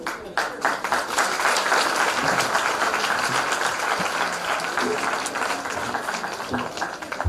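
An audience at a primary school graduation claps in loud, sustained applause that fills the room, dense and steady for several seconds before thinning slightly toward the end.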